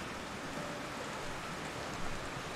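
Steady, even rain in the video game Foundation, a dense continuous patter with no breaks, alone and fairly quiet at a constant level.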